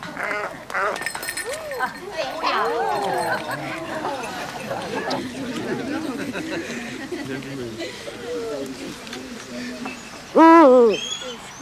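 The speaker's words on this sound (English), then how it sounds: "He's a European eagle owl, the largest owl in the world" A European eagle owl at a falconry demonstration gives one loud, short call near the end, after a long stretch of people talking and murmuring with other busy background sound.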